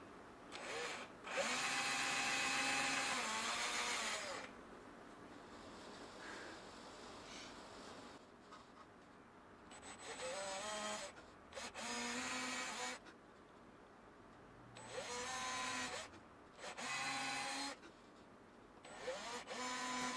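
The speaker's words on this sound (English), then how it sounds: "what you're seeing here is me drilling the 4 holes for the screws that will attach the" Hand drilling of four screw holes for a bridge in a stained guitar body, a whining drill running in several bursts with pauses between, close and steady.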